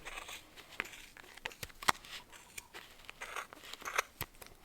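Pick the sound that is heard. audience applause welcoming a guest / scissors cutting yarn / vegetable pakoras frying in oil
scissors cutting yarn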